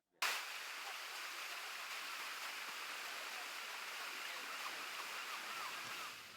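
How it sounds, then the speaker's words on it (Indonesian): Waterfall at Huta Barat, North Sumatra, a steady broadband rushing roar that starts abruptly and holds evenly throughout, moderately faint, with no talk. "wisatawan lokal, Brian Lumbang Tobing, mengaku sangat takjub melihat keindahan air terjun Huta Barat"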